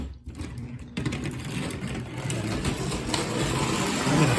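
A Lionel model train runs along its track in a steady mechanical whir and rattle, with wheels clicking over the rails, close and continuous, building slightly in loudness.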